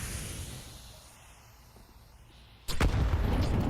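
A grenade blast going off in a Counter-Strike match in the IEM Cologne 2025 tournament: a sudden loud burst near the end, ringing on over game background noise.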